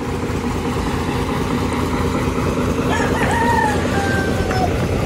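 A rooster crows in the distance from chickens being loaded onto a bus on the Trans-Sulawesi road, over a steady bus engine idle, with a dense background rumble throughout.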